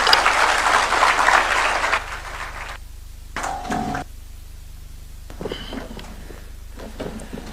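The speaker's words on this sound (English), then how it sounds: "Another round of applause for His Excellency as we take our seats." Audience applause at the Katiba Day symposium at KICC fills the first two seconds, then fades into a quiet hall with scattered shuffling and brief thuds as people take their seats.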